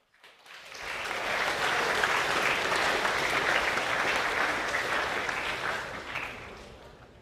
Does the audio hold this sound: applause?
yes